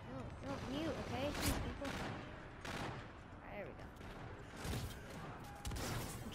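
Shotgun fire in the Infinite Warfare shooter's Gun Game mode, a string of sharp, heavy blasts at irregular intervals amid other distant gunfire, with a player talking over the shots.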